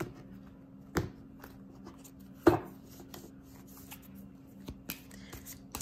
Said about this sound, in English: Try to shuffle them the best way that I can.